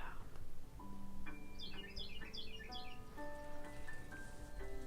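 Birds chirp and twitter in short bursts at moderate level over a soft musical soundtrack with sustained tones, part of a calm hypnosis relaxation recording; a gentle voice is faintly present.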